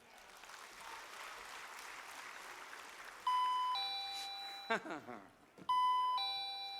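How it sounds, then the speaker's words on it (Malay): Electronic bell chimes ring out in clear tonal notes, repeated a few times with short gaps, over a murmur of background noise at an UMNO general assembly debate. "Tutuplah loceng tu."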